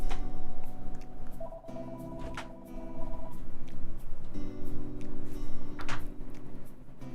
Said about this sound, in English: I know it's a landline, but...